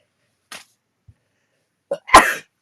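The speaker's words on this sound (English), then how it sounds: "I have to sneeze." A single sharp sneeze bursts out after a couple of faint breaths and a soft intake, close by in an otherwise quiet room.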